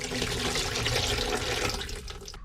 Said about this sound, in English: So strain the water off.